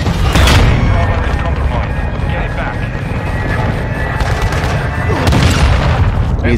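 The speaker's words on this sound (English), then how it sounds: "I'm dropping a missile on B." Missile strike in Call of Duty: Modern Warfare 2 multiplayer, a dense rumbling blast that swells loud at the start and again near the end, amid sustained heavy gunfire and battle noise.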